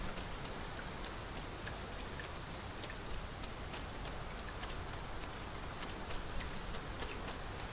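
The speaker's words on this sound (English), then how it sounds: "It's really coming down. We can push through a bit of rain, sure." Heavy rain pours down steadily in the fantasy video game Dragon's Dogma 2, a dense, even hiss of drops hitting surfaces with no voices over it.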